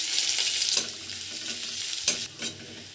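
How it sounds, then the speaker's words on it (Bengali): Chopped onion frying in hot oil in a pan for a tomato bharta, a steady close sizzle with a couple of brief stirring scrapes, no talk. "পেঁয়াজ লালচে করে ভেজে নিয়েছি"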